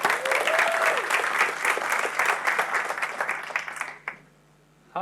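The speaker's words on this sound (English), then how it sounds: "So a really big round of applause to the team." Enthusiastic audience applause at a Capture The Flag talk, celebrating the CTF team. It is loud, dense clapping with a few whistles, and it fades out abruptly near the end into quiet.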